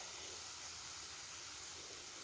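Dates halwa mixture sizzling as it fries in a pan, a steady, soft hiss that stays even throughout with no talk.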